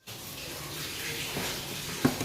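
Hot water pouring off boiled potatoes through a kitchen strainer, a steady close rush and splash that swells briefly near the end with a small clatter.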